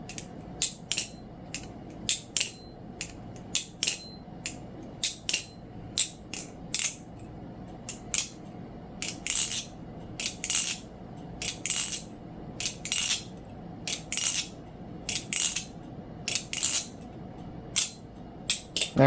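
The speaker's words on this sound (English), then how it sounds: "So here is the dry sound test for the Knivesmatter TECH-NOIR." Knivesmatter TECH-NOIR balisong butterfly knife flipped with dry, unlubricated pivots, making repeated sharp metallic clicks and clacks in quick irregular clusters, close up with no talking.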